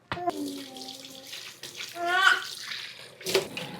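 Tap water runs steadily over a head of cabbage being washed with Castile soap in a sink, splashing and shifting as the leaves are handled, with a few sharper knocks and drips.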